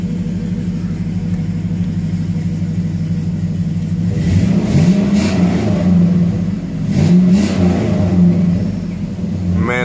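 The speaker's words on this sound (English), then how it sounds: "Man, that truck sounds good." A Chevy truck engine rumbles at a steady idle, then revs up twice in quick throaty bursts, each rising and falling back to the low, close rumble.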